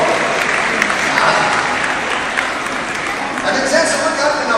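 Audience at a dolphin show applauding, a dense, steady wash of many hands clapping close and loud throughout, with faint crowd murmur.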